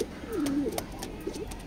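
Male pigeon at a pigeon loft giving a soft rolling coo, one drawn-out phrase followed by a shorter one, close by against faint background rustle.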